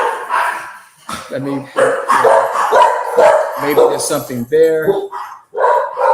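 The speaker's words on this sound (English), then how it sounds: "Dogs don't want to let you talk, bro." Dogs bark repeatedly in short loud bursts, some yipping and whimpering, breaking in over a person speaking nearby.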